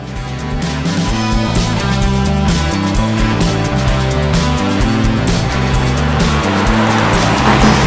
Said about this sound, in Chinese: 唯有当引擎的转速扬起的过程当中，它还是会有一些比较不精致的声响产生